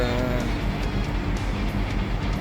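A 2005–2008 Toyota Hilux with a 1KD-FTV diesel engine fitted with an EGR blanking plate, a loud, steady close-up engine drone under load, heard from inside the vehicle with no talk.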